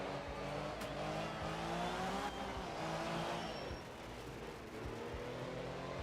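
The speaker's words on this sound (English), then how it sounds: "The actual, like, underlying engine note of this sounds like a V6, which is weird as hell to hear coming from a Mini." Mini rally car in the racing game Art of Rally, its engine carrying a V6-like note: a steady revving drone with shifting pitch, brief tire squeals and skids, loud and close with no talk.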